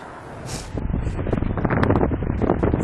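Strong headwind buffeting an outdoor microphone, a rough low rumble that swells after the first second and keeps gusting unevenly to the end, with no one speaking.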